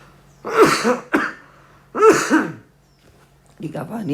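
Two close, loud throat-clearing coughs from a man during a spoken Islamic lecture, each a short rough burst about a second and a half apart, followed by the speaker's voice resuming.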